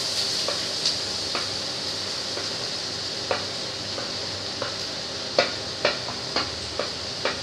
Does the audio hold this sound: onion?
yes